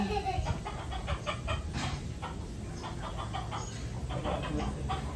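A crowned chicken clucks and calls in a series of short, moderately faint bursts, with a brief pause in the middle, against a quiet outdoor background.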